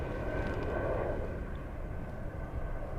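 Steady broadband rumble of a jet airliner's engines on runway 32 at Zurich airport in Switzerland, heard at a distance as a continuous, even roar with no distinct peaks.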